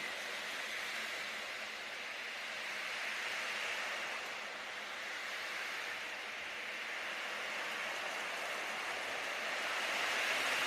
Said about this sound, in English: they rub against the bottom of the ocean drum, and they make a wave sound.